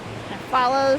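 Roaring creek water rushes near Hidden Falls at Jenny Lake in Grand Teton National Park, a steady broadband wash that swells louder halfway through, with a voice speaking over the second half.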